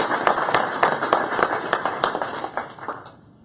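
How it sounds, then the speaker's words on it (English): A small audience gives a short round of applause for an engineer, a room of hand claps with a loose rhythm that thins and fades out over a few seconds. "Round of applause for Trung"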